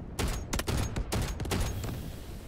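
Rapid bursts of gunfire from an attack helicopter's cannon in the Delta Force video game, several loud clustered volleys that come close together and then trail off into a lingering rumble.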